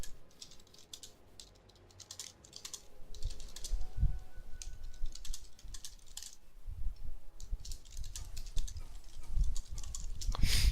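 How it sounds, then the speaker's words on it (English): Someone types on a computer keyboard in quick, uneven bursts of clicking keys, close by and fairly loud, with a bit of background noise. "Why am I typing?"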